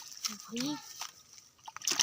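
Water sloshes and splashes in short bursts during fishing for small fish, close by and fairly quiet, mixed with people talking over it.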